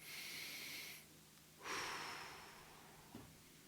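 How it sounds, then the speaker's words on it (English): A slow, deep breath drawn in audibly and then released, a long airy inhale followed by a pause and a softer rushing exhale, close and alone. "One of my favorites is to take a slow, deep breath."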